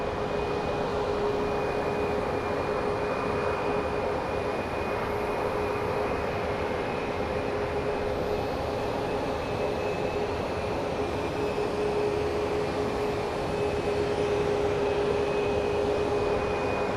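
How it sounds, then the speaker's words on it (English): An Alaska Airlines jet departing Phoenix Sky Harbor for Seattle, heard as a steady, sustained engine roar with a constant whining tone, fairly distant and unchanging throughout, with no talking over it. "So this Alaska Airlines is departing for Seattle."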